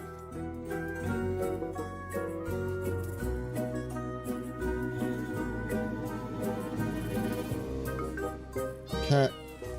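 Cat meowing in the video game Solnest, repeated meows over game music, one sharper meow near the end standing out loudly.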